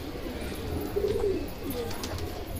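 Pigeons coo softly and close by, a brief low call rising over a steady background hum.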